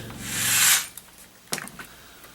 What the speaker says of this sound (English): We're going to drill some pilot holes real quick.